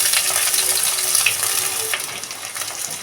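Shallots tossed into a sesame oil tempering with mustard seeds, cumin and dried red chilies, giving a continuous bright sizzle and crackle throughout, close and fairly loud.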